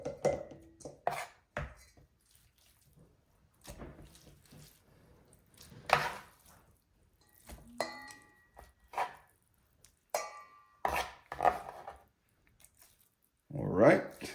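Knife repeatedly chopping raw beef into thin strips for Jamaican peppered steak, a series of sharp irregular knocks on a board with pauses between, close by, with a person talking at times.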